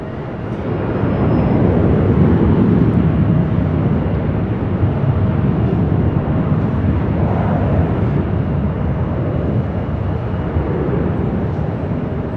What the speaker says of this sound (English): It's a landing like that, you didn't even know you had landed.